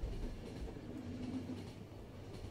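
Train running in The Final Station video game: a steady low rumble with faint rhythmic rail clatter, continuous and moderately loud throughout.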